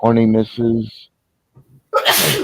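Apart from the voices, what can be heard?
sneeze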